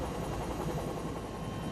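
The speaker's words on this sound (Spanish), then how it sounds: "En este helicóptero de la Fuerza Aérea de Bolivia realizan operaciones de abastecimiento, transporte de víveres y de personal y evacuaciones" Steady, dense rotor and engine roar of a Bolivian Air Force helicopter used for supply, transport and evacuation flights during a national flood emergency, loud and continuous with no voices.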